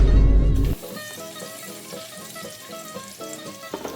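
Onion drops into hot oil, with a loud initial burst and then a steady sizzle and crackle of frying, close up with no talking.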